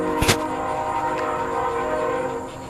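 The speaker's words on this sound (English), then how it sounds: "That whistle keeps blowing over there." A train horn sounds steadily and loudly for the whole stretch, with a short sharp burst near the start.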